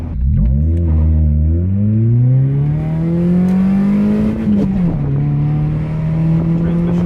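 A Honda Prelude accelerates hard on a quick pull, its engine note climbing steadily through the revs, then dipping briefly at a shift before pulling again, loud and close from inside the car.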